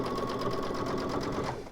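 Sewing machine running a short backstitch while finishing a hooded towel, a fast even needle rattle close by for under two seconds.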